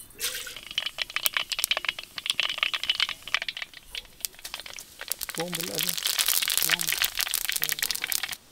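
Mustard seeds crackle and pop in hot oil while cooking an egg dish, a dense stream of sharp little sizzling crackles close by, with brief speech over it.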